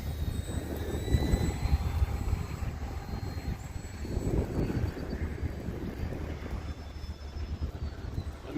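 An Arrows F8F Bearcat 1100mm RC model airplane flies overhead, a faint steady electric motor whine that swells and recedes twice as it passes, alone without talk.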